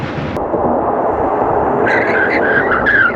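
An Audi S4 with a supercharged V6 stops hard, its tires skidding with a loud rushing scrub and a squeal rising near the end, close by.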